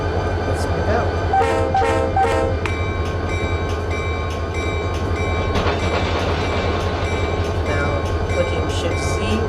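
A locomotive in the Run8 train simulator pulls out of a hump yard, with a steady low engine rumble, rhythmic clanking and a brief horn-like tone near the start, all continuous at close range.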